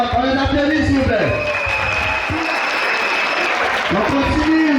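A crowd at a youth gathering in Abidjan applauds the counselors with loud, continuous clapping throughout, while someone speaks over it.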